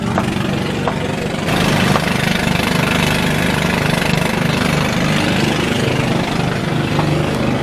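A boat engine drones loud and steady while towing a boat at Calatagan, Batangas, a rough continuous rumble with a slight rise in intensity early on.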